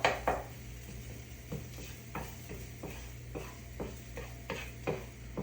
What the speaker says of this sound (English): now you can hear it sizzling a little bit, right? The garlic.